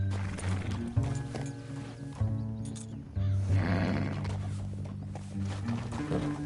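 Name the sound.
horse galloping in video game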